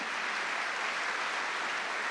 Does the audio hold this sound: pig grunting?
no